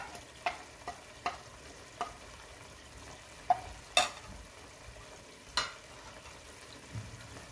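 Qeema masala frying in a pan with a steady sizzle, while a spoon stirs it and knocks against the pan in sharp scraping clinks every second or so, close and without talk.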